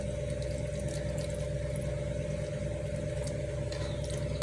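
Quiet, steady pouring of water into a cooking pot with a low mechanical hum underneath, continuous and unbroken, no talking.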